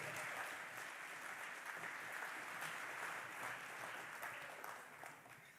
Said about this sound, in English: Another round of applause for Harvey.